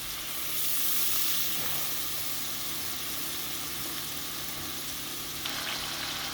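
Masala for dhaba-style aloo gobi sizzles steadily in a pan with a little added water, a soft continuous hiss with faint stirring, no voices.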